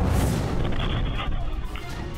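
A truck carrying illegal fuel explodes on a city street in Bau-Bau, a loud deep boom that rumbles and decays over a couple of seconds.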